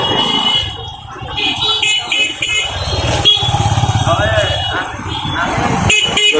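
A motorcycle engine rumbles past on Keane Bridge in Sylhet amid busy street noise, with a horn tooting and people talking nearby.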